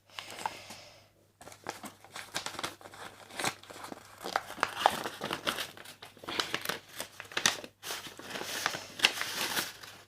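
Budget envelopes stuffed with paper banknotes being handled and re-sorted, a close, continuous run of papery crinkles, rustles and soft slaps with short pauses.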